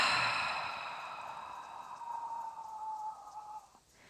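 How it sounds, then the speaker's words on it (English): A single slow, breathy exhale during a hip-flexibility breathing exercise, starting strong and fading over about four seconds, close and alone. "inhale, inhale, slow exhale"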